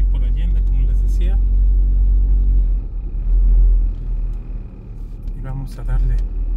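Truck and car passing on a town street in Chavinda, Mexico: loud, close engine rumble that swells and fades as the vehicles go by, with someone talking over it.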